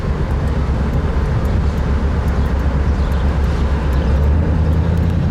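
A 1964 Studebaker Daytona convertible with a 259 V8 cruising along the road, a steady loud low engine drone mixed with wind and road rumble, with no voices.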